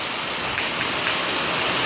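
Steady rain falling nearby, a dense continuous hiss of drops on surfaces without pauses or voices.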